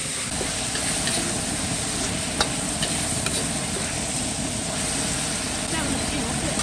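Meat stir-fries in a wok with a splash of osmanthus wine, a dense, steady sizzle and hiss close by, with a few light clinks of the spatula against the pan.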